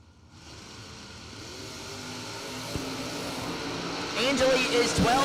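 Drag racing cars, an S10 and a second-gen Camaro, rev and build in engine noise that swells into a loud roar near the end, under an announcer talking throughout.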